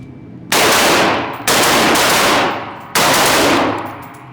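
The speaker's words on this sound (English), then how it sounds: "you're holding a rifle. I want these first two shots to come faster." Three loud, sharp rifle shots ring out close by at a rifle championship training session, with about a second and a half between them and each one trailing off in a long echo.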